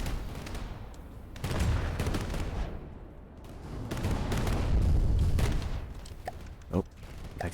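Naval guns firing in a From the Depths battle, a destroyer trading fire at range: dense rumbling fusillade of booms and bursts rolling on and off, with a sharp louder shot near the end.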